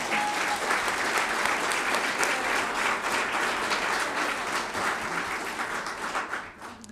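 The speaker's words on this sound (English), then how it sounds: "Please give them a round of applause." Sustained audience applause fills a state governor's bill signing ceremony, a dense steady wash of many hands clapping throughout, close and loud, tapering slightly at the very end.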